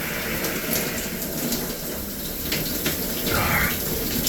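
Cold well water pouring steadily from a shower, a continuous soft hiss and splash with slight variations, fairly quiet and close.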